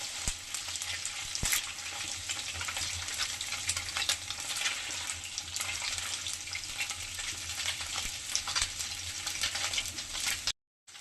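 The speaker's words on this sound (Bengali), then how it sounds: "মাছ এক পিঠ হয়ে গেছে, উল্টায় দিই।" Small mola fish sizzle and fry steadily in a pan, with a couple of sharp clicks as they are turned over, the loud frying hiss continuing until a brief cut near the end.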